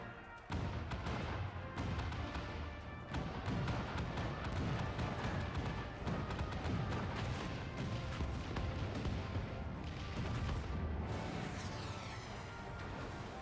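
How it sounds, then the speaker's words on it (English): Booming cannon volleys in Final Fantasy XIV, Stormblood, layered over dense game music and effects, with heavy repeated blasts and crashes filling the whole stretch at close, loud level. "All cannons! Fire at will!"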